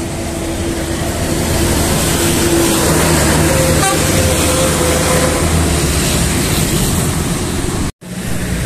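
Buses pass along an Indonesian road, a steady loud engine drone with a horn toot midway and another brief tone, ending in a sudden cut near the end.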